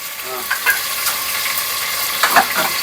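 Garlic and curry leaves sizzle in hot ghee while mutton sukka is cooked: a steady, close frying hiss broken by a few sharp pops and spatters, with no one speaking.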